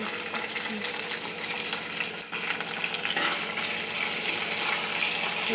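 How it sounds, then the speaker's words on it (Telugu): Rice frying in a pan until golden, with a steady broadband sizzle and a brief dip midway before the frying resumes, louder and brighter. "ఇవి బాగా వేయాలి. వేగినాక మిగతా ప్రాసెస్"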